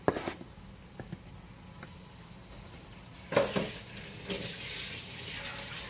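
Meat for carne guisada stew dumped into a hot pot, giving a soft initial hiss that swells into a steady, fairly faint sizzle with a few scrapes and knocks.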